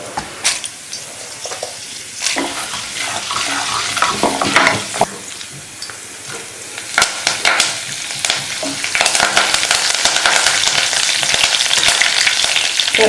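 Cumin, mustard seeds, chana dal and urad dal frying in hot oil for a puri palya tempering, a steady crackling sizzle up close with occasional stirring scrapes, growing louder and denser toward the end.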